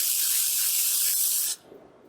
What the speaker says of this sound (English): This is dry texture spray.